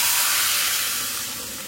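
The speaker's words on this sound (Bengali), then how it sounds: "এবারে আমি গ্যাসটা কমিয়ে দিয়ে আস্তে করে ডালটা ঢেলে দেব" Cooked moong dal poured slowly into a hot pan on low gas, a loud steady hiss and sizzle that slowly eases off.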